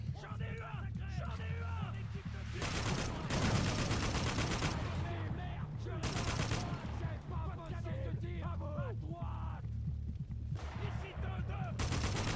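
Gunfire in the video game Spec Ops: The Line, with repeated bursts of automatic fire and heavy shots amid battle noise, loud and close, while voices talk over much of it.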